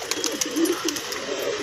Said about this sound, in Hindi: बड़ा ही मस्त कबूतर दिख रहा है दोस्तों, ये जंगली कबूतर